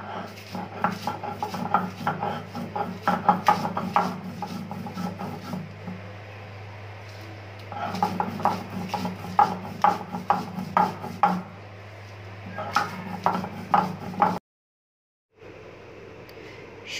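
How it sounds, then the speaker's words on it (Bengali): Dried chilies being ground on a grinding stone give rhythmic bouts of rough back-and-forth rubbing and scraping, close and moderately loud, with short pauses between strokes and a brief silence near the end. "এখন আমি শুকনা মরিচটা বেটে নেব।"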